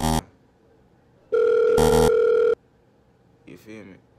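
A phone rings over and over as someone makes repeated calls to it. A short burst is followed by a loud, steady electronic ring tone lasting about a second, then a brief warbling sound, with quiet gaps between.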